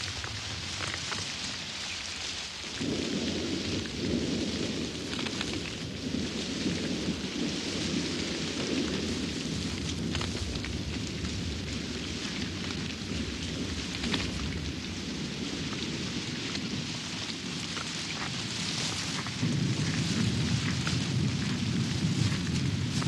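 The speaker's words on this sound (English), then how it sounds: "even the lions are unnerved by the fierceness of this storm" Heavy rain from an African night thunderstorm pours steadily with deep rumbling thunder rolling underneath, loud and continuous, swelling again near the end.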